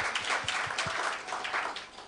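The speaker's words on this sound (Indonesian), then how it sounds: "Tepuk tangan buat Tuhan kita." Congregation applauding during a church sermon, a brisk burst of many hands clapping at moderate distance, fairly faint and continuous with a few sharper individual claps.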